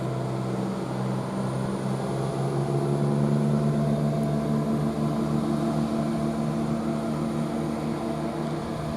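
A Class 170 diesel unit, 170-117, pulls away from Tamworth bound for Cardiff Central, its engine a steady droning hum with tonal layers that swells slightly and then holds, heard alone without voices.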